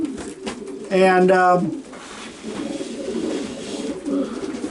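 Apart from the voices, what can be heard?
racing pigeon cooing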